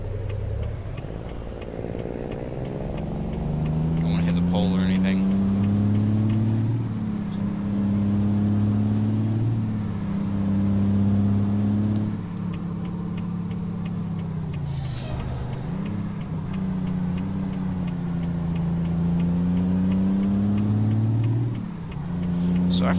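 A Kenworth T800 truck with a Cummins engine in American Truck Simulator gives a loud, steady low diesel drone that rises and falls through gear changes, with a faint high whine above and one brief hiss partway through.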